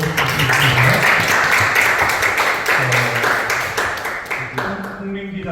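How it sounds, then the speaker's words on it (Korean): Audience applause after a presentation at a young writers' literature concert in Daejeon, steady dense clapping filling the room for several seconds before thinning out at the end, with voices faintly underneath. "박수 부탁드립니다."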